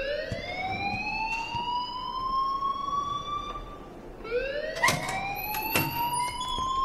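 An alarm wails at the school in Life Is Strange, a loud rising siren tone that sweeps upward, fades, then starts again, with a few sharp knocks mixed in and no speech.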